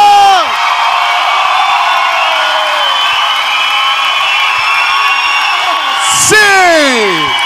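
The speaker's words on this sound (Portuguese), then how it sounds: "Uma salva de palmas para os quatro amigos!" A comedy-show audience roars with cheers, whoops and shouting, a dense and loud crowd that holds steady throughout, with a fresh burst of yells near the end.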